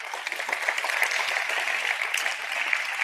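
An audience at an anniversary event claps in a steady burst of applause, moderately close and continuous, with a voice faintly over it.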